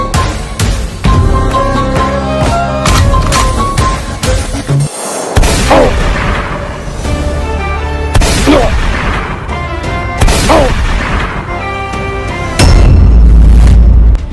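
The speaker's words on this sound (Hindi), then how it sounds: "ये धमाके की आवाज कैसी थी?" Deep booming explosion effects hit repeatedly over loud music, each burst followed by a rumbling tail, with one short silent gap in the middle.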